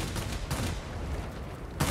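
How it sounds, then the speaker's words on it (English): Forward cannons fire from a Tachikawa Ki-94-I plane in World of Warplanes, a rapid, continuous rattling burst of shots with engine roar behind, swelling again at the end. "I'm going to introduce you to my forward cannons here."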